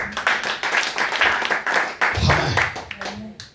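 A church congregation applauding, a dense run of rapid handclaps close by, with voices talking over part of it.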